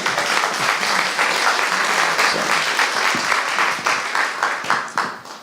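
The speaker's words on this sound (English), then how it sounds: "I think we should applaud every group." Sustained applause from a room full of people, steady and loud for several seconds before tapering off slightly at the end.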